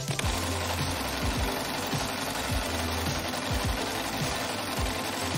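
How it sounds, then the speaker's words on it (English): A sewing machine stitches a rainbow doll dress, a loud close mechanical whirr with a steady rapid needle rhythm that runs throughout, alone without talk. "You can ask an adult to help you with a sewing machine"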